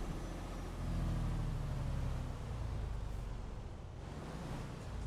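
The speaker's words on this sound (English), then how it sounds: "You hear this truck." In American Truck Simulator, a Peterbilt 389 truck engine drones with a broad, loud rumble and steady road noise, swelling slightly as it runs, with no talk over it.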